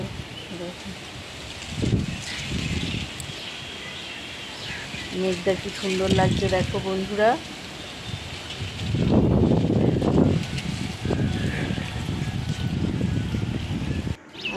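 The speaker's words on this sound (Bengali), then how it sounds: "হঠাৎ খুব ঝড় উঠে গেল" A sudden afternoon storm wind gusts across a rooftop, a steady roar that rises in stronger bursts. People talk over it.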